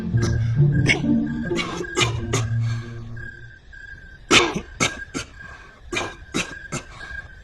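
Repeated harsh coughs in short bursts, some clustered in quick fits, with brief pauses between them.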